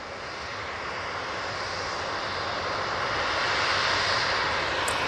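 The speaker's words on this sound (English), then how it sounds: "this one, perfect timing, mate, is now now rolling onto the runway" A passenger jet taking off at Manchester Airport, its engines building into a broad, steady roar that slowly grows louder over a few seconds, heard from outside with no speech.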